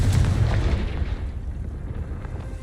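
In Hogwarts Legacy, a Confringo spell explodes with a loud, deep rumbling boom up close, which slowly dies away into a low rolling decay.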